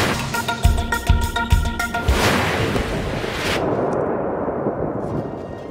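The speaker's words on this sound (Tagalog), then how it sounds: "Maririnig din ang mga sumasabog na paputok." Fireworks exploding at a burning fireworks warehouse in Yolo County, California: a rapid series of loud, close pops and bangs in the first two seconds, giving way to a sustained roaring crackle and rumble.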